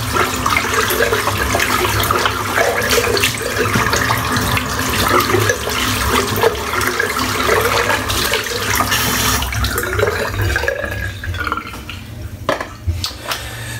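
Tap water runs steadily from a faucet into a sink while someone rinses shaving soap from their face, a continuous close splashing with small drips and knocks, fading near the end.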